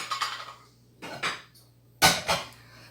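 Ceramic plates clatter and clink into the racks of a Beko dishwasher during loading, in three short, fairly quiet bursts with near-silence between them.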